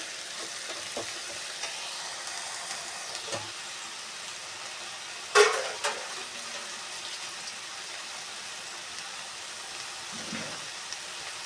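Drumstick leaves fry in oil while being cooked down for a gojju: a soft, continuous sizzle throughout, punctuated by one loud clatter of the utensil midway and a few quieter stirring scrapes.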